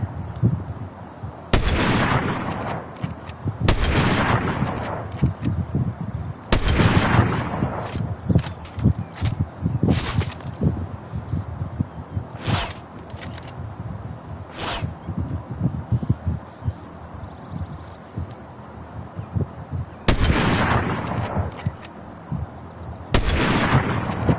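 Gunfire in the video game Fortnite during a Metal Gear Solid crossover, with Snake shooting: repeated loud broadband shot bursts at irregular intervals over a busy game background, with a few sharper cracks between them.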